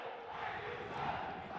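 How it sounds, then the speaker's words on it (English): A large crowd roars steadily in an esports arena during the BGIS 2026 BGMI grand finals, a dense sustained cheer heard at some distance. "Oh, you hear the crowd in the background."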